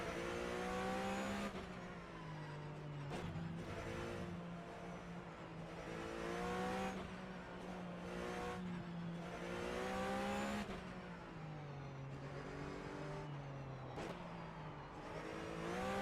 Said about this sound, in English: I think that's a car behind me.